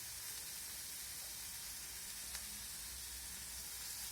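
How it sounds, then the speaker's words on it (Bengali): Potato and carrot frying in a pan with salt and turmeric, giving a steady, close hiss and sizzle at an even level throughout. "লবণ আর হলুদটা দেওয়ার পর আবারও ভালো করে নেড়েচেড়ে মিশিয়ে নেব।"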